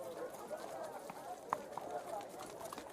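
Quick running footsteps as a sound effect during a tabletop role-play session, a rhythmic patter of steps at moderate volume under a person talking.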